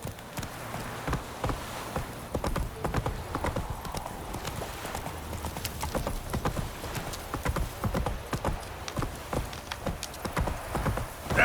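Roach, a horse in The Witcher 3, trots along with steady rhythmic clip-clop hoofbeats close by, continuous throughout, over a faint patter like rain and light background ambience.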